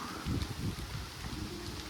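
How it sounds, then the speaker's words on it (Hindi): Strong wind gusting through swaying trees in open farmland ahead of rain, a steady broadband rush with louder low buffeting in the first second, close to the microphone and without speech. "वो देखो हवा भी, ये आवाज़ भी आ रही होगी, देखो कैसे हिल रहे पेड़"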